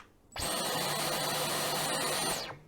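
A Dyson V12 cordless vacuum switches on at the press of its power button: a loud, high motor whine rises quickly, holds steady for about two seconds, then winds down, close up.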